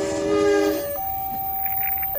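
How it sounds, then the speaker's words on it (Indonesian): A ballast freight train carrying gravel sounds a steady horn over a rumbling rail background, the tone shifting pitch partway through as its ten cars roll past. "Kereta api ini melintas pada pukul 7 lebih 35 menit"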